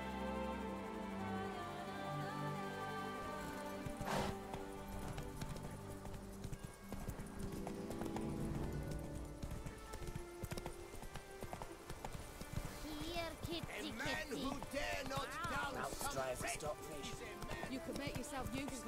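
The horse Roach trots in a video game, its hooves clip-clopping in a steady rhythm that runs throughout under a continuous backing of game sound and voices.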